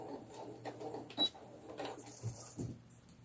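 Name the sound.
sewing machine backstitching on a rag doll's pajamas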